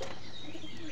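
A single pigeon gives a short, soft coo at close range with no voice over it.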